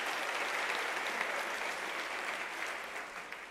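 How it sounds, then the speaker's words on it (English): A crowd at a university graduation ceremony breaks into dense, sustained applause, loud and even, fading slightly toward the end. "Can we give them a round of applause?"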